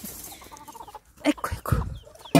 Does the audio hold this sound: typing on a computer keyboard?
no